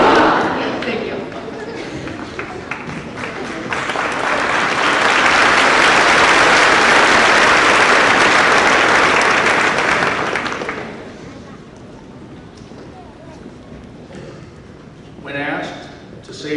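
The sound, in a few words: graduating class clapping and cheering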